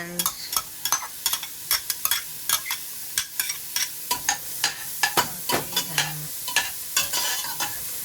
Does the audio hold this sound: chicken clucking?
no